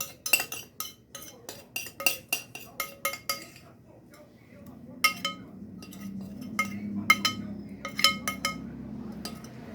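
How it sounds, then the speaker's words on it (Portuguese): A metal utensil repeatedly scrapes and clinks against a cooking pot of pie filling in quick irregular strokes, close up, with a low murmur behind it in the second half. "Eu rapo mesmo a panela"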